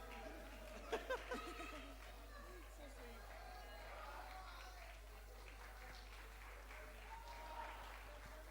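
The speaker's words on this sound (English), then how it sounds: "Keep on clapping out here." A crowd at an esports LAN event claps steadily, a soft wash of applause mixed with background chatter, heard from a distance.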